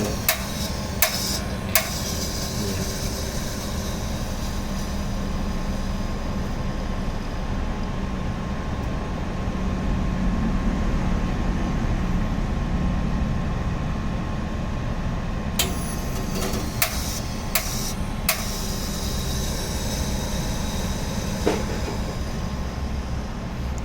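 An air-conditioning flushing machine runs steadily while cleaning the AC system of a 2012 Isuzu D-Max, giving a constant mechanical whir with occasional sharp clicks and rattles, close and loud, with no speech.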